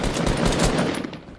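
Rapid bursts of automatic gunfire in Fortnite crackle continuously and loudly, a dense rattling volley that tapers off slightly at the end.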